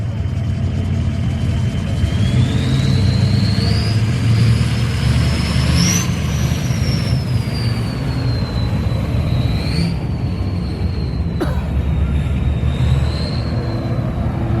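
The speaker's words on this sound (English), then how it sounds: "They put some exhaust to make it whistle like that." Loud steady engine roar from a car at a night rod run cruise, with a high whistling tone from its exhaust rising and falling above it, swelling as the motor revs.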